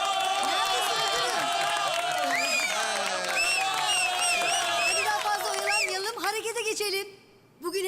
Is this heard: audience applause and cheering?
yes